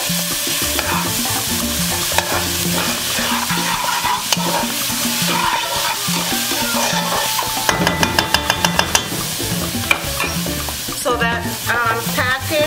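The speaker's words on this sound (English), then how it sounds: "Now give it a stir." Food cooking in a pot for a Puerto Rican Sunday dinner is stirred, with a loud steady sizzle, repeated clanks and scrapes of a utensil against the pot, and a quick run of rhythmic taps near the end, close up and without speech.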